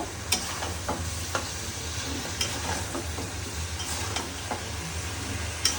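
Turmeric, cumin and coriander powders with garlic paste are stirred in a hot pan for a chicken chui jhal curry, a continuous close sizzle punctuated by light scraping strokes and occasional clicks of the spoon.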